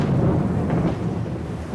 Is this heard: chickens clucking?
no